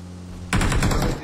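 Rapid automatic gunfire from a shooting video game kicks in abruptly halfway through, a loud, fast burst of repeated shots over a low steady hum, with no talking.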